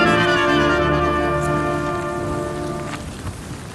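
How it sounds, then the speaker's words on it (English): Rain driven by gale-force wind, a dense, loud, steady roar of rain and gusts with low rumbling underneath that eases slightly toward the end. "The winds have now reached gale force and it's raining upwards."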